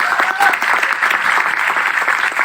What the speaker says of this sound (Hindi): एक बार जोरदार तालियां धर्मेंद्र मान सर के लिए